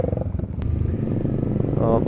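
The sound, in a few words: motorcycle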